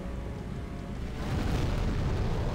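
A deep, rumbling boom swells up and lingers as a broad roar, an explosion in Demon's Souls on PS3, with no voices over it.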